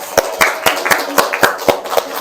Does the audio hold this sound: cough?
no